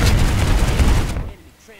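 Heavy gunfire from an enemy prowler in a shooter video game: a loud, continuous burst of dense automatic fire lasting over a second, then cutting off abruptly into quieter background sound.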